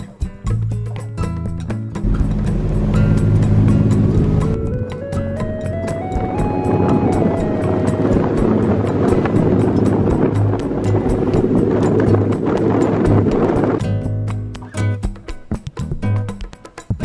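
Boat ride to Koh Rong island in Cambodia, with a loud steady engine drone and rushing water and wind rising in pitch as the boat speeds up, then easing off near the end.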